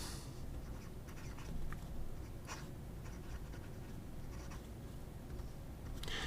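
A Vazir Checkmate 2.0 aluminum fountain pen with a broad Jowo nib writes on Tomoe River paper, giving soft, continuous close-up scratching and gliding strokes with faint brief bursts, quiet and steady with no talking.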